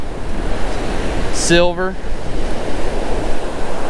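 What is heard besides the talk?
strong wind and rough ocean surf on a beach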